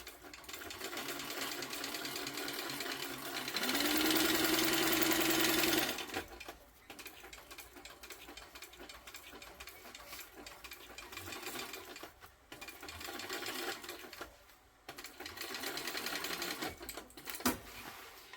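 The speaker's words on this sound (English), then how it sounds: "So let's do an extra row of stitches first." A sewing machine runs steadily, stitching an extra row of stitches. Its mechanical whirring rises into a louder stretch and then carries on at a lower level, with brief pauses.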